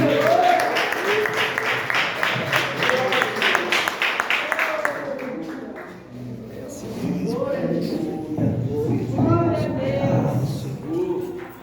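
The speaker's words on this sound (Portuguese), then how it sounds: "Você pode aplaudir Jesus?" Church congregation clapping during a sermon, rhythmic applause of many hands mixed with voices, fading midway and then resuming more loosely alongside talking.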